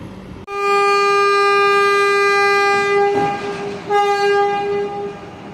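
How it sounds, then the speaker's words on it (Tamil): A Vande Bharat Express sounds a long, loud horn while departing Chennai Central station, the steady tone holding for several seconds with a short break before it resumes over rumbling rail noise. "அந்த பக்கம் டிபார்ட் ஆகி கிளம்பிட்டு இருக்கிறது நர்சாப்பூர் வந்தே பாரத்"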